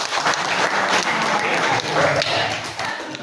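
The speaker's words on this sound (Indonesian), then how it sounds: "Kasih tepuk tangan untuk Cynthia." Applause from students in a classroom forms a dense, steady wash of many hands clapping for a few seconds, with no talk over it.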